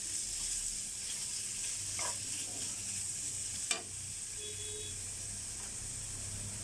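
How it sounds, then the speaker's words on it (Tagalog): Meat searing with fish sauce in a pan produces a quiet, constant sizzling hiss, broken by a few faint clinks and one sharp tap near the middle, with no voices. "Sangkutsahin natin siya ng patis."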